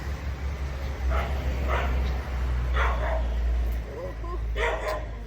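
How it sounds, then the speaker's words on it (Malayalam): A dog barks at a house garden in a few separate bursts, spaced a second or so apart and moderately distant, while a low steady hum runs underneath. "നമ്മുടെ ഇവിടെ ഒരു ജാക്കി ഉണ്ട് അവനാ കുരയ്ക്കുന്നത് കേട്ടോ"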